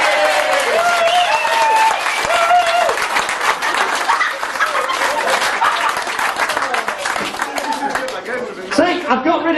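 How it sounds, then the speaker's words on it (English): A theatre audience at a comedy stage hypnotist show bursts into loud, sustained applause and cheering with chatter, the clapping dense and continuous, and a voice talks over it. "everyone will give you a huge round of applause"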